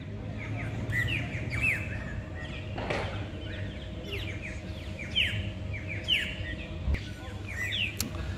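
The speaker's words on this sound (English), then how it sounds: "All you hear is beautiful birds under the mango trees in Port Douglas." Birds sing under mango trees in Port Douglas, Queensland, in winter, with repeated bright chirps and short tweeting calls from several birds at moderate distance over a low background hum, plus an occasional brief knock.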